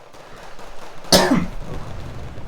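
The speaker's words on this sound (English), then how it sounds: "Coughing." A single sharp cough bursts out over a low background hum, then trails off quickly.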